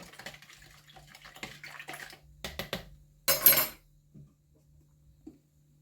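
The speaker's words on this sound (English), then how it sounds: "I'm just going to give that another stir because you want to get all of that into the bowl" A bicarbonate of soda mixture for homemade plant fungicide being stirred in a bowl, with light spoon scrapes and watery swirling followed by a sharper splash and a few faint clinks, close and quiet.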